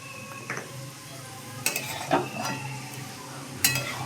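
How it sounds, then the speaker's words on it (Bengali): Meat being stirred with spices, salt, turmeric, coriander and cumin powder in a pot for biryani, with soft scraping and occasional clinks of the spoon against the pot, fairly quiet and without talk. "মাংসগুলোকে ভালো করে কষাবো সব মশলার সঙ্গে।"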